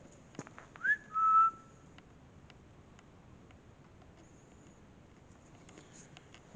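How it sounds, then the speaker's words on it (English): A person gives a short, faint two-note whistle early on inside an old gun battery, then only quiet background hiss remains. "I can always whistle."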